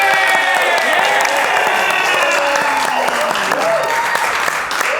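An audience claps and cheers for a musical guest on a talk show, with sustained, loud applause running through and tonal sounds, likely voices or music, woven in underneath.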